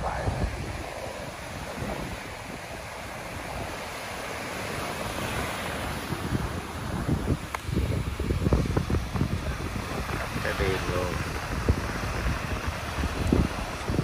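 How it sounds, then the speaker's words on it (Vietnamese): Strong wind buffets the microphone on the beach at Hà Tiên at sunrise, a continuous loud roar with gusts swelling midway, with surf washing in underneath and no voices. "Gió rất là mạnh nha, hôm nay gió rất là mạnh"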